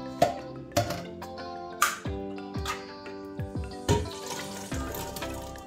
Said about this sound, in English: Pour them in the pot.